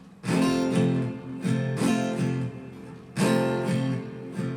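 Slow, deliberate guitar strumming plays a repeating down-up pattern, with distinct chord strokes ringing out close and alone.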